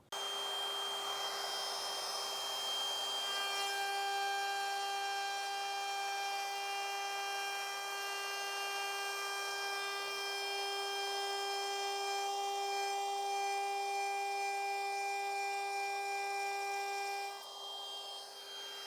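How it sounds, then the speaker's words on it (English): A power tool whines at a steady high pitch while carving a straight line through redwood, a loud continuous rasp that keeps going before easing off at the end. "Now I'm just going to carve a straight line right through this piece of redwood."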